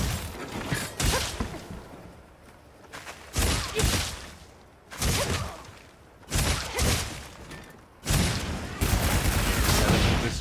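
Switch Axe discharge attacks in the video game Monster Hunter Wilds go off as repeated explosive bursts. Five or six loud, crackling blasts arrive about every second and a half, over a busy backdrop of game noise.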